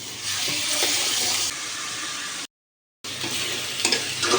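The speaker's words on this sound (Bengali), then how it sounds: "আমি এই তেলে পেঁয়াজ রসুনটা ভালোভাবে কষিয়ে নেব যাতে কাঁচা গন্ধটা না থাকে।" Onion and garlic paste with green chilies fry in oil for akhni, a dense, loud sizzle with stirring, cut briefly by a silent gap before the frying and a few sharp scrapes resume.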